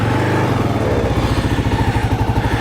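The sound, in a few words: KLR 650 motorcycle engine starting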